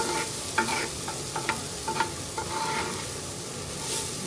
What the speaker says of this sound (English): Now the vegetables are ready for the next step, so I'm just going to add that to the crock pot.